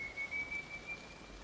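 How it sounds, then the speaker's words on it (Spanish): At night, a faint, distant human whistle holds a thin, high note that climbs slightly before fading, heard alone over a low background hiss. "un silbido lejano, tan lejano que por un momento creí haberlo imaginado, una sucesión clara de notas,"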